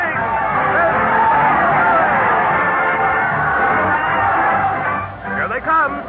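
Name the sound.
happy crowd cheering at a radio show parade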